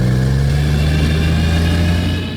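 A car engine, recently repaired at an automotive shop, runs loud and steady at a smooth, even pitch, then fades slightly at the end.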